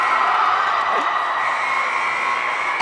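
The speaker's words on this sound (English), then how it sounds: "The crowd getting into it." Sustained roar of a crowd cheering and shouting at a school basketball game between Conquerors and Dayspring, loud and continuous from start to finish.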